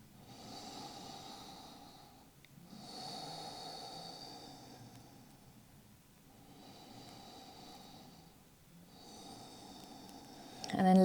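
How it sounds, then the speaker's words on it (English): Slow, deep breaths drawn during a resting stretch in a cool-down routine for runners and cyclists, three long airy inhale-exhale swells with short pauses between, close and fairly quiet, alone without talk. "Two more breaths here."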